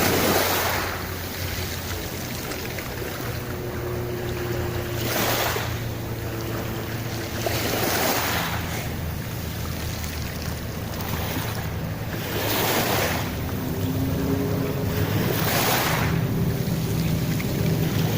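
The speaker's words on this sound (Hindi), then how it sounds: "आहिस्ता आहिस्ता पानी आगे आ रहा है मेरे पाँव तक।" Sea waves wash up on a beach near Athens in slow, rhythmic surges, each swell building to a loud, broad rush of surf and then fading as the water draws back.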